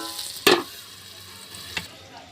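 Ash gourd greens and stalks stirred in a pan with a spatula, giving one loud scraping clack near the start and a fainter second knock later over a quiet low hum.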